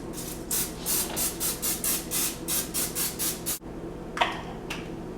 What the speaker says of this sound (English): I use spray olive oil.